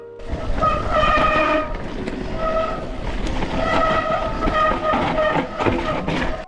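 Loud, harsh squealing tones rise and fade repeatedly over grinding rumble from cold mountain bike disc brakes screeching during a ride on a YT Capra Core 3.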